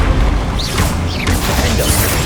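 A loud, close blast from the Bombarda blasting spell in Hogwarts Legacy on PS5 rumbles and crashes through a dense wash of game noise, with no talking.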